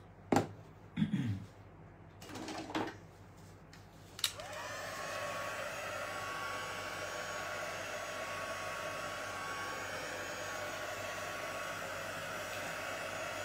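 A hair dryer starts after a few handling clicks and knocks and then blows steadily and loudly, drying a freshly brushed coat of Pentart primer.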